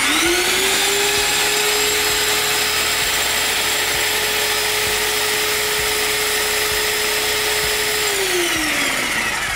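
An airless paint sprayer pump primes its system with paint, droning loud and steady with a high motor whine and rattling pump pulses. It runs alone for about eight seconds, then the pitch drops as it winds down.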